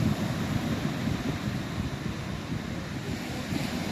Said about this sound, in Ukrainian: О, а вона яка хвиля.